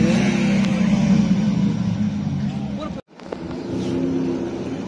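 A car engine revs loudly at an end-of-summer car cruise in Portrush, roaring close by with a brief cut partway through, then picking up again, with people talking nearby.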